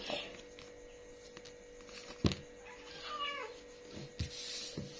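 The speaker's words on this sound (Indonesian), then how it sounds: "Kucing aku." A house cat meows indoors, a short drawn-out cry in the middle of a quiet room with faint bumps and rustles around it.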